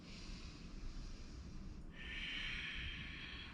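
Slow, steady yoga breathing during a morning flow, a continuous airy rush with a stronger hissing exhale in the second half, close and faint, with no talk.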